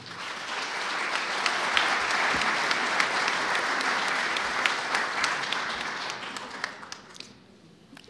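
Sustained audience applause at an anniversary panel of Mexico's INAH, a dense wash of many hands clapping steadily for about seven seconds before thinning out at the end, with a faint voice underneath.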